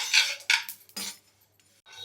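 Metal spoon scraping and clinking against a thick steel kadai while stirring chicken thokku pickle, a few close, bright strokes in quick succession followed by a quieter pause and one more scrape.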